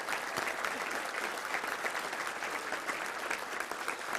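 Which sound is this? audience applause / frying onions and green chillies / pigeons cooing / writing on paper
audience applause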